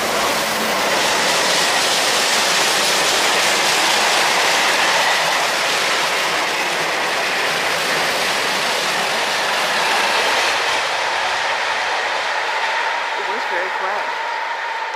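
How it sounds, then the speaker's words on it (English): A train passes close by a bayside spot along the Portuguese Camino, a loud continuous rush of wheels and rattling cars with faint clickety-clack that fills the whole stretch and eases slightly near the end. "Oh, there goes the train."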